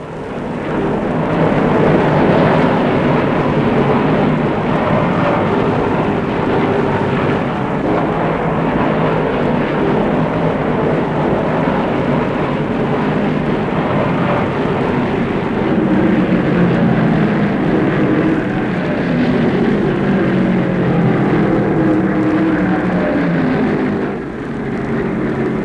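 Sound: Dodge stock car engine racing on track

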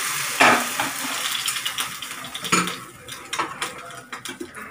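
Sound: stirring hot oil into dhokla batter

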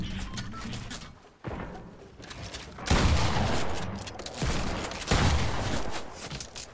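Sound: gunfire in Fortnite Battle Royale video game

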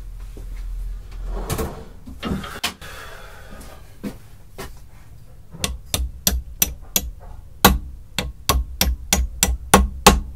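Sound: hammering pins into a vintage Stanley plane

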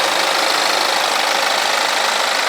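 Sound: BMW 520 turbo four-cylinder engine idling

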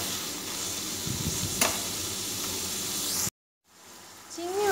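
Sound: shrimp frying and sizzling in oil

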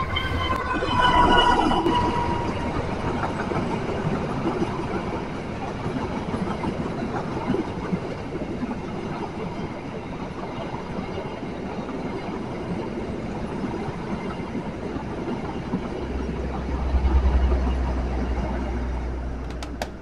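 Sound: Argo Dwi Pangga passenger train with CC206 locomotive passing

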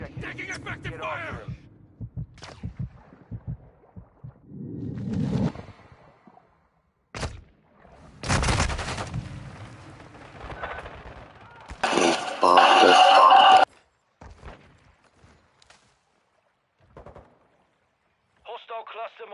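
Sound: gunfire in a Call of Duty multiplayer video game

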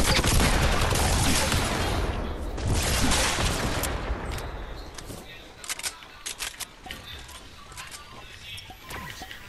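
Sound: gunfire in the video game Fortnite

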